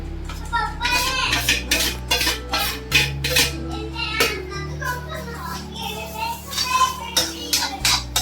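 Ground moong dal batter is mixed with salt and spices in a bowl, with a busy run of close metallic spoon clatters and scrapes while children's voices chatter in the background.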